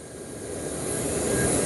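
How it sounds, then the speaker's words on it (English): Jet engines of a parked aircraft already started, a steady broadband roar that rises slightly in level, heard alone with no voices. "This aircraft has already started its engines."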